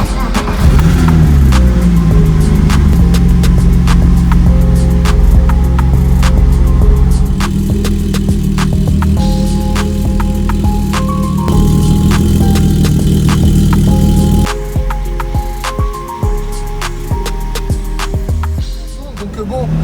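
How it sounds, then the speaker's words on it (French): A BMW E36 engine runs at a loud, steady idle with an uneven, hunting rhythm, its rumble continuous throughout, dropping somewhat quieter toward the end. "On va pouvoir démarrer la E36 et laisser tourner."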